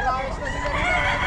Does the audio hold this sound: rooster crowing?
yes